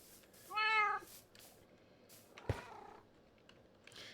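A Minecraft cat gives one short, clear meow close up, followed by a faint thud and quiet background game noise.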